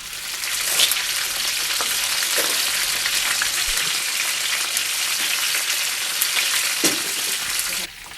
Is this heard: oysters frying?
yes